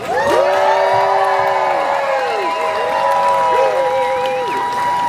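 Crowd at a SeaWorld Orlando food festival media day applauding and cheering for the culinary team, loud sustained clapping mixed with shouts and whoops, with voices calling out throughout.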